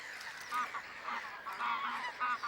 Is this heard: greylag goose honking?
yes